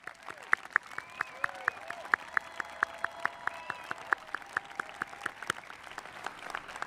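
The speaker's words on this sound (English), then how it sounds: "If we can clap for members of the Vassar College faculty." Audience at a Vassar College commencement clapping, one loud nearby clapper keeping a crisp, regular beat over a softer spread of crowd applause, with faint tonal chirps drifting in the background.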